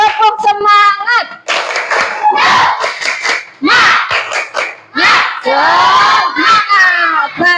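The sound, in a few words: class clapping and cheering a spirit clap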